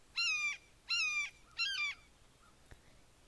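A blue jay mimics a red-shouldered hawk with three loud, clear, strained calls in an even rhythm, followed by a faint click.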